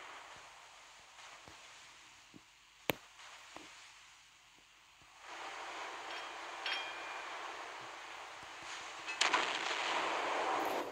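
Battleship secondary guns fire in the Naval Creed naval game, a few sharp distant booms over a low hiss of sea and wind that swells louder midway.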